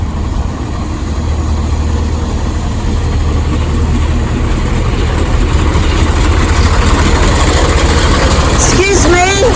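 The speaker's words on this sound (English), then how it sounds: "Can you turn your engine off? It stinks! It causes cancer, these fumes. Please turn it off, it's loud." A vehicle engine idles steadily in an outdoor street setting, a continuous low rumble running throughout while someone speaks loudly over it.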